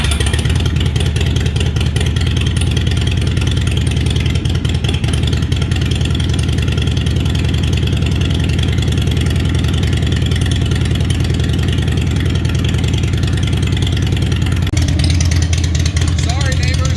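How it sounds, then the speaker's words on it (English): Harley-Davidson motorcycle engine running steadily and loud throughout, with a rough low idle rumble and a shift in tone near the end as it is revved. "We'll do a cold start and then a couple revs."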